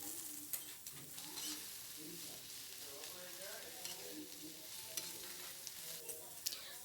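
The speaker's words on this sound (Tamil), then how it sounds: "சேர்த்துட்டு நல்லா வதக்கிக்கணும் வெங்காயத்தை" Two large chopped onions sautéing in a pan for brinjal thokku: a continuous soft sizzle with occasional light stirring clicks, quiet and close, while a faint voice talks in the background.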